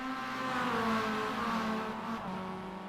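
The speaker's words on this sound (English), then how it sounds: "And just bumping off the rev limiter." Mazda MX-5 Cup race car in iRacing, engine held high and bumping against the rev limiter, a steady buzzing drone with slight pitch wobble, close and continuous with no talking.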